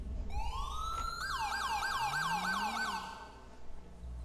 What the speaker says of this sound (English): So that is the siren that I do have, that I just recently downloaded.